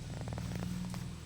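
A kitten purrs up close, a soft, steady rumbling purr with a faint rhythmic pulse, heard alone in a quiet room.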